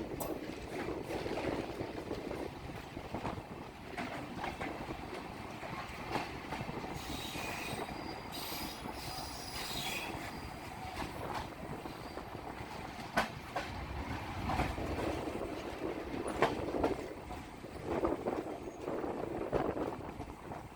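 A passenger train rumbles and clatters at a distance, wheels squealing with metallic screeches as it rolls slowly onto platform 1 at Madgaon station, Goa, no talking.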